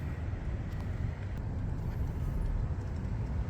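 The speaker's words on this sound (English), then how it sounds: "Muffler sounds amazing. It's not too loud, but it sounds so good." A 2015 KTM 1190 Adventure motorcycle's muffler gives a steady, moderate exhaust rumble with a low, continuous drone, heard without talk.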